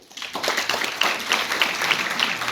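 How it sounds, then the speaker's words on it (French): Audience applause at a French school eloquence contest on secularism, a dense wash of hand claps that starts quickly and holds steady and fairly loud for the whole stretch, with no speech over it. "j'aimerais que l'on puisse s'unir et qu'on en applaudisse tous celui qui a porté la laïcité jusqu'à l'école, Monsieur Vincent Payon."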